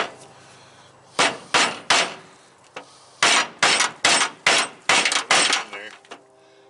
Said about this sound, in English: Drive that roll pin on them.